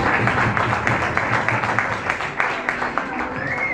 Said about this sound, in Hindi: एल्डर जोरदार तालियां बजाइएगा